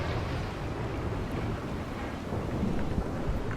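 RimWorld game audio of a rainstorm: a dense, steady roar of rain with deep rumbling thunder running the whole way through, fairly loud, and no voices.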